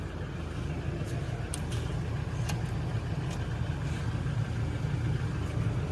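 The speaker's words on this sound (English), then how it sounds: "you want to just turn it on and just let it idle." A car engine idles with a steady low rumble that stays even throughout, with a few faint clicks above it.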